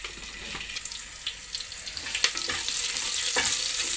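Mustard seeds and green chillies frying in hot oil for sambar, a faint bright crackle with scattered sharp pops and spits, close and alone without talk.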